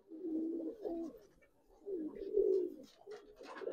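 Red-throated pigeons coo close by in soft, low, rolling phrases that repeat in several separate bursts with quiet gaps between them.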